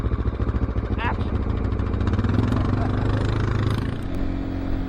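A Honda XR650L dual sport motorcycle engine thrums steadily and close by on a trail, with a low, pulsing rumble as the bike rides along and revs slightly.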